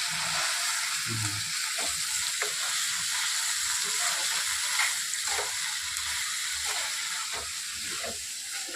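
Boiled cluster beans fry with onions in a hot pan, giving a loud, constant sizzle and hiss with occasional soft knocks and stirring scrapes underneath, close up and with no voices.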